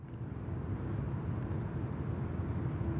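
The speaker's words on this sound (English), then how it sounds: "Qantas 20 there, just dropping in on runway 34 left a moment ago." A Qantas airliner landing on runway 34 left at Sydney Airport, a steady loud roar of jet engines with a low rumble and a faint tonal whine, continuous throughout with no talk.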